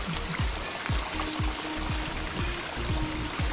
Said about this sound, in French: là encore un petit ruisseau. Ça, qui nous fait des petites mini-cascades.